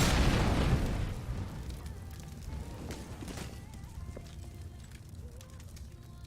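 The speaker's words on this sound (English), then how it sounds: "Smoke! Flashbang." A flashbang grenade going off in the video game CS:GO, heard as a loud, close burst at the start that decays into a lingering rumbling wash over several seconds.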